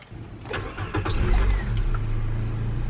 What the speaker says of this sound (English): Just let me turn on the car.